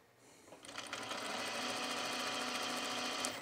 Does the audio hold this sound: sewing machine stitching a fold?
yes